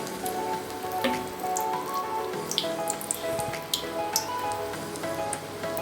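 Banana and potato bajji deep-fry in hot oil, producing a steady, even sizzle with scattered pops and crackles throughout, fairly close and moderately loud, with no talking.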